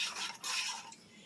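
A spoon scrapes and swirls through pie filling of sugar and cornstarch in a pot over medium heat, a close, steady stirring with a brief pause midway.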